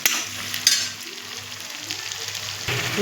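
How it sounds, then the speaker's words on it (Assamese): A pounded paste of ginger, garlic, green chili and a little cumin fries in oil with a steady, moderate hiss and crackle, mixed with soft stirring scrapes close by. "আদা নহৰু জলকীয়া অকণমান জিৰা দি কেনে খুন্দি লৈছিলোঁ আৰু নহৰু ধুনীয়াকৈ ভাজি ল'ম"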